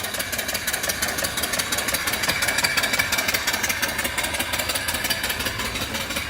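A small live steam mill engine fed by a temporary hose from an off-grid boiler runs with a steady, rapid chuffing and mechanical knock, loud and continuous throughout with no talking.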